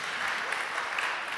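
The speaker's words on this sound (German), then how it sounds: "nochmal Applaus" Continuous applause from an audience at an opening event, a dense steady patter of clapping at moderate level throughout.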